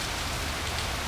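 Steady outdoor rain pattering densely on surfaces, an even close hiss with no pauses or voices.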